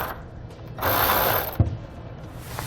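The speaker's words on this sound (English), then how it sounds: "We'll use a 13mm socket to remove the bolts at the back and the front of the shield." A ratchet wrench with a 13mm socket loosens heat shield bolts under a 2017 Chevrolet Silverado, giving a steady close clicking run with a short metallic clunk partway through.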